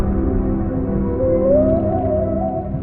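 Humpback whale song in the open sea: a long, tonal moan that slowly rises and wavers in pitch over a constant low rumble of water, steady and fairly loud throughout, with no voices.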